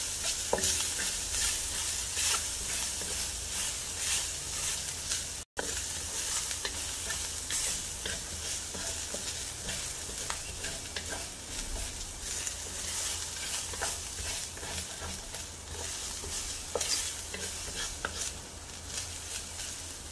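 Grated coconut masala dry roasts in a pan for a mutton bone curry, a constant close hiss with steady scraping stir strokes and scattered crackles, broken by one brief gap.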